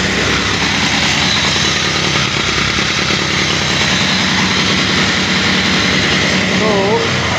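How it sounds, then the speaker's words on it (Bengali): A Bajaj Pulsar motorcycle engine runs steadily, a loud close rumble that never lets up, its pickup fading because of a weak battery. "পালসার বাইকের স্টার্ট দেওয়ার পরে যখন দেখবেন যে সাউন্ডের এই যে পিক আপ ছেড়ে দিচ্ছে"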